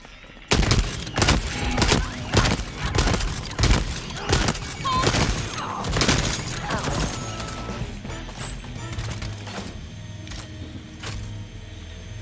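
A gun turret in a video game fires a loud, fast fusillade of sharp repeated shots for several seconds, the bursts thinning into rumbling aftermath and scattered crashes toward the end.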